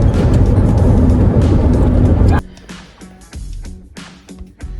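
A bus engine rumbles loudly while driving on the road, then drops abruptly to a quieter idle with intermittent knocks and rattles.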